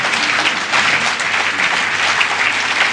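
Steady, dense applause from an audience at an Iqbal Day commemoration event, filling the whole stretch at an even, loud level with no break and no talk.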